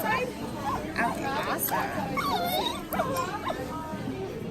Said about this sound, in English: I have some puppy sounds we can put inside.